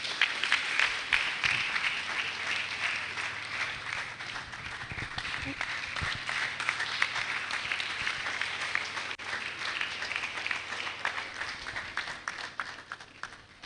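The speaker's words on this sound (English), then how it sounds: "Keep clapping till he resumes his seat" A conference audience claps steadily and continuously, a thick wash of applause filling the hall without letting up.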